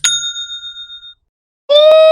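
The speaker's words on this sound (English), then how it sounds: "That was the sound of another sale on Shopify" A Shopify sale notification rings out as a bright, clean ding that fades over about a second, followed by a second, louder chime, alone and close.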